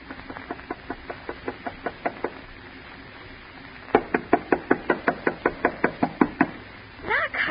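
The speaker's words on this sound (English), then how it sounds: "Knock harder, Alice." Knuckles rap on a house door in an old-time 1943 radio drama: a quick series of about ten knocks, a short pause, then a louder run of a dozen more, ending in a brief voice.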